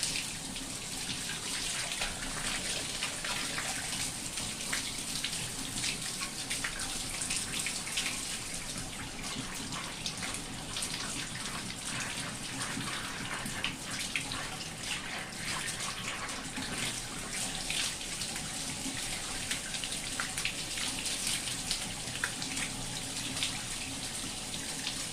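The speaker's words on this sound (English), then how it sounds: "This one could take a while to rinse" Water tap running steadily into a sink while tie-dyed fabric is rinsed, a continuous close splashing hiss with small sloshing variations, no talk.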